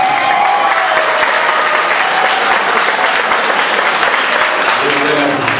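A graduation audience of students and guests rises and applauds, a loud, dense, sustained wash of clapping with some crowd noise mixed in.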